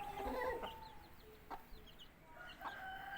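An Indian game rooster crows and clucks at a moderate distance, with faint bird chirps and a soft outdoor hiss behind it.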